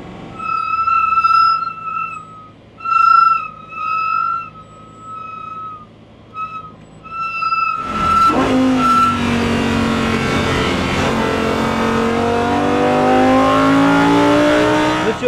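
An ABT XGT race car sits at a steady idle with a bright whine before its engine suddenly roars into hard acceleration, rising through the revs loud and close for several seconds without any talk.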